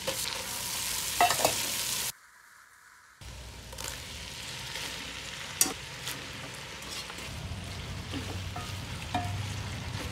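Garlic and tomato frying and being stirred in a pan for dinuguan, a pork blood stew, with a steady close sizzle and scraping stirs, broken by a brief silent gap.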